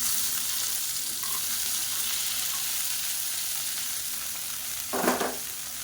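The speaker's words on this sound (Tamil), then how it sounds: "இந்த வெண்டைக்காயை நல்லா வதக்கி எடுத்துக்கலாம்." Cut okra sautés in oil in a pan, giving a steady, soft frying sizzle. Near the end there is one short, louder burst of stirring.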